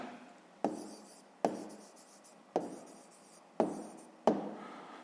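A pen writes out an answer to a sixth-grade math exercise by hand, with five sharp, evenly spaced taps or strokes on paper in a quiet room.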